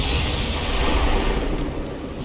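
Incoming enemy gunfire in XCOM 2 War of the Chosen, a loud, dense burst of booming, crackling shots lasting a couple of seconds.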